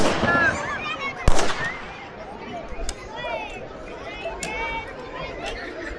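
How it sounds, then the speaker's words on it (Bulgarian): A single sharp gunshot cracks out amid a crowd of chattering voices at an April Uprising commemoration reenactment in Bulgaria, followed by scattered smaller bangs and ongoing talk. "Звучава изстрел."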